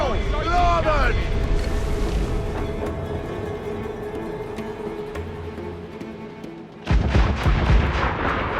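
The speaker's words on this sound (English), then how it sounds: "They're firing on base! One more direct hit, and we're for the deep." Naval cannon fire at sea in the video game Assassin's Creed IV Black Flag: a steady churn of ship and battle noise, then one heavy, loud broadside boom erupting near the end, with voices shouting over the action.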